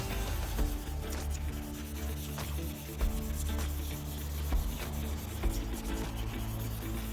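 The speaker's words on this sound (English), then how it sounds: "we're going to be sanding it back, and we're going to start with the 600 paper." Close, continuous rasping and rubbing of wet 600-grit sandpaper scrubbing back and forth over an oxidized car headlight lens, with small irregular scrapes and no talking.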